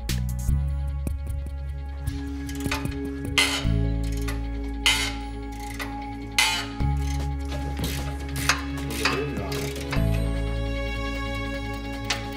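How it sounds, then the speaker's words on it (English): A ratchet works bolts and nuts loose from the strut mounting on the steering knuckle of a Range Rover L322 front axle, giving steady metallic clicking over a low mechanical hum that shifts pitch a few times. "Remove the bolts and nuts on the strut mounting of the steering knuckle."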